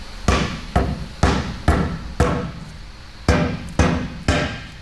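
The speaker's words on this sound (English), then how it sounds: "I'm just gonna tap it, hopefully break the seal." A hammer strikes a Caterpillar 3306 diesel engine part eight times in an uneven rhythm, each blow a loud, close metallic knock that rings briefly before the next, trying to break a silicone seal.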